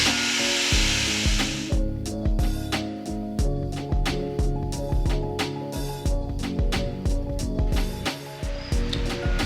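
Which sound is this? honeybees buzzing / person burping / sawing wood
sawing wood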